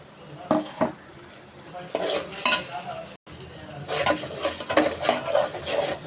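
Dried chili paste being stirred into sautéed mushroom masala for a mushroom and double-bean biryani, with a spoon scraping the pan over steady close oil sizzle in uneven strokes, briefly pausing midway.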